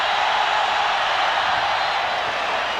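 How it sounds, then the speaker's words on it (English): A packed basketball arena crowd roaring continuously during Duke at Arizona, a dense, loud, sustained wall of cheering with no break. "Listen to this crowd."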